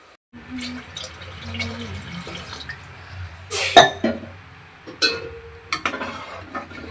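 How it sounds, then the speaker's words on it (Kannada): Two glasses of water poured into a pot of biryani being cooked, a few short splashing pours and clinks against a quiet kitchen background. "ಅದಕ್ಕೆ ಈಗ ಒಂದು ಗ್ಲಾಸ್ ತೊಗೊಂಡು ನಾನು 2 ಗ್ಲಾಸ್ ನೀರು ಹಾಕ್ತೀನಿ"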